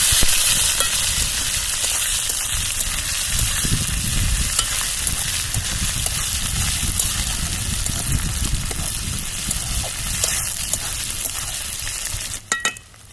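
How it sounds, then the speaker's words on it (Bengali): Onions fry briskly in oil in a pan before a river boal fish curry, a loud, close, continuous sizzle and crackle that ends with a few clattering knocks at the very end. No one speaks. "পেঁয়াজটা আমি ভেজে নেবো ভালো করে"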